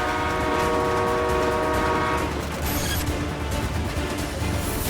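A train horn blares over the steady rumble and rattle of passing rail cars, a loud dramatized sound effect that shifts to a washing hiss of wheels partway through.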